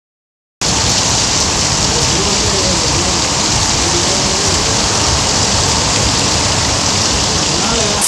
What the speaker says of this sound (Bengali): এত বৃষ্টি পড়ছে